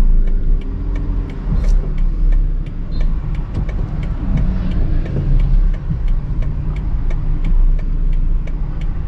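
Car engine idling and revving gently while the driver balances clutch and throttle to hold the car on an uphill slope; a steady low rumble with a regular ticking runs throughout, close and continuous with no talk.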